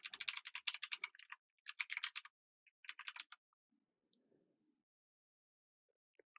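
A run of rapid computer keyboard keystrokes enters a URL for a Jira developer instance, coming in three quick bursts with brief gaps, close and clear, followed by near silence and a faint click.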